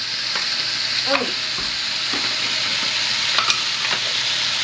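Garlic and sofrito sizzling in a pot for a Cuban chicken and potato stew, a steady bright sizzle with stirring scrapes and a brief exclamation partway through.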